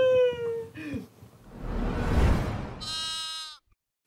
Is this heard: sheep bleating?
yes